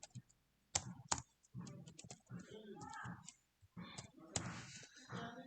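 Keys clatter on a computer keyboard in short bursts and sharp isolated clicks, including a firm press of the enter key, while someone talks over much of it, close and moderately quiet.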